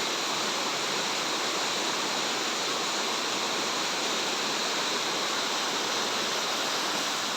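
Water rushing out of a pipe near Devgarh, a steady, loud broadband roar with no pauses that stays constant for the whole stretch, close up with no voices.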